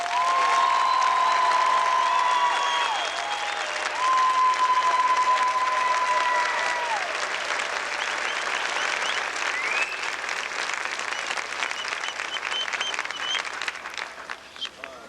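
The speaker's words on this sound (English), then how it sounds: "please join us in a warm round of applause for the officers, drill instructors, and company corpsmen of Company I" A large crowd gives sustained, dense applause at a Marine recruit graduation ceremony at MCRD San Diego, with a steady roar of clapping that stays loud throughout, heard from within the audience with faint cheering mixed in.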